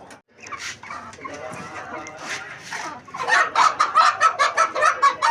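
Hens and a rooster clucking and calling close by in a rural poultry yard while being fed grain, a steady busy chatter that grows louder and more rhythmic toward the end.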